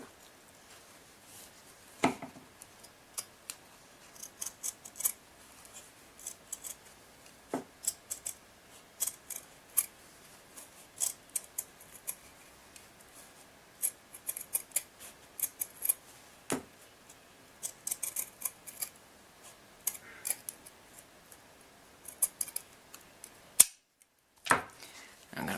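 Scissors snip around shibori-dyed fabric in a quiet room, giving sharp, scattered cutting clicks in irregular bursts, with a few louder snaps and brief pauses between runs of cuts.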